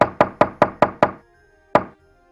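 Rapid, heavy banging on a door in an animated cartoon: six hard knocks in quick succession, a short pause, then one final loud knock, close and alone.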